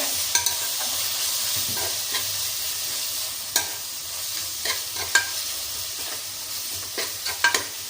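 Kashmiri red chilli powder is stirred through hot oil in a pan, a soft continuous sizzle broken by scattered scraping clicks of the spoon against the metal, close and fairly quiet.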